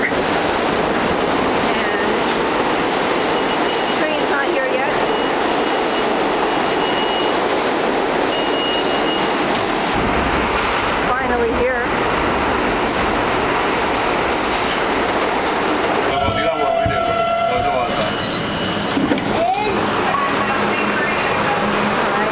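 A subway shuttle train rumbles loudly and continuously with rattling wheels and occasional squeals and clicks, close by and dominating, with faint voices now and then.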